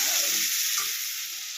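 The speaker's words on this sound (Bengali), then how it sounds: "মশলাটা কষানোর সময় একটুখানি চিনি দেওয়া হয়েছে" Spice paste with a little sugar sizzles and fries in a pan, a steady bright crackle filling the short stretch with faint stirring underneath.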